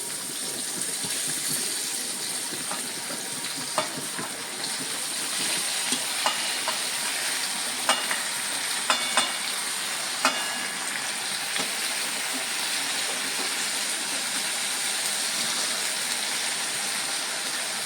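Jackfruit pieces dropped into hot peanut-oil tempering of mustard seeds, asafoetida, turmeric and red chilli pieces, sizzling steadily at close range with a few sharp spatula scrapes and clinks, no talking.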